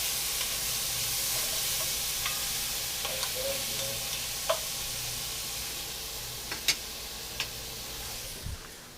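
Beef short ribs sizzle in a pan under a steady frying hiss, with a handful of faint scrapes and taps as they are stirred and the sticky bits are worked off the bottom.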